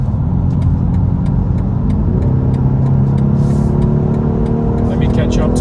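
2021 BMW 4 Series coupe accelerating in sport mode, a loud continuous engine drone heard from the cabin with rising tonal pitch as speed builds, and a voice talking over it.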